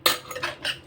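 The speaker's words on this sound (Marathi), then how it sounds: "आपण ह्यामध्ये आता मीठ घालूया आणि ते चांगलं ढवळून घेऊया." A utensil scrapes and clinks in a bowl while salt is stirred into ambolya batter. Three short bright strokes come close and clear over about a second, with no voices.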